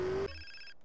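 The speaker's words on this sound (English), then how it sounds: "I'm gonna wait for a phone call" A telephone in GTA San Andreas gives one short, faint ring for an incoming call, then a brief tonal decay.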